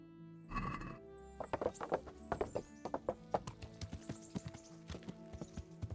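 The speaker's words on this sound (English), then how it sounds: "Run, horsey, run faster." Hooves clip-clop in a quick, steady galloping rhythm in the video game Kingdom Come: Deliverance, after a brief horse whinny at the start, fairly close and clear.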